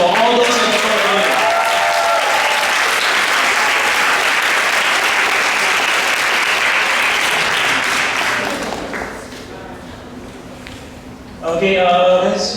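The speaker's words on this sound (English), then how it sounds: "Let's give another round of applause for all those in the front." A large crowd at a school performance showcase claps loudly and steadily for about nine seconds, then fades to a quieter stretch before a fresh burst of clapping returns near the end.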